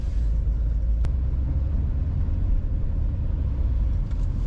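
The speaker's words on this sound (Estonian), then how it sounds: "siuke mõnusalt põrisev diisel" A 2007 Hyundai Sonata diesel engine rumbles steadily at idle, heard as a low, continuous drone from inside the car's cabin with no talking.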